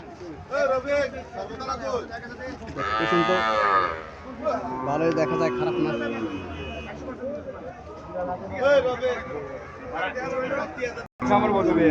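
A native Bangladeshi dairy cow moos loudly and close, a long low bellow followed by another, with people talking around it.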